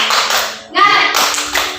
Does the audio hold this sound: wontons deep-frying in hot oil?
no